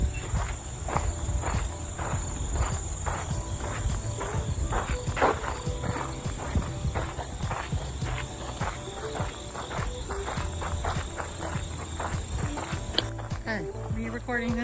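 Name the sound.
footsteps walking at a campsite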